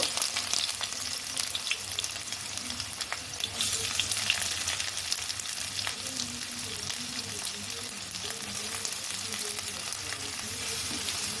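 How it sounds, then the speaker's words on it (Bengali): Sliced onions sizzle steadily in hot oil in a wok, a dense, even crackle that holds at a constant moderate level throughout, with no voices. "তেলটা গরম হয়ে গেছে পেঁয়াজগুলো দিয়ে দিব"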